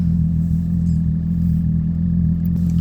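A 2002 Jetta GLI with a VR6 24v engine idles just after a cold start in snow in Toronto, a steady, loud low rumble that holds evenly throughout with no other sounds.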